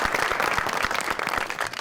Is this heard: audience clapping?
yes